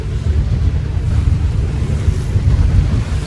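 A sailboat motoring along at about 3,000 revs and 4 knots in strong wind, giving a loud, steady low rumble mixed with heavy wind buffeting and rushing water, continuous throughout.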